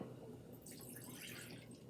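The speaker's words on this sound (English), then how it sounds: "I'm going to pour this water into the bowl." Water poured from a glass into a bowl, a soft, steady trickling splash lasting about two seconds, fairly quiet and with no talking over it.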